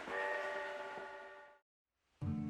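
A train horn or whistle sounds as an effect in a children's Sherlock Holmes audio story, a loud sustained tone that breaks off into brief silence, then a second blast starts abruptly.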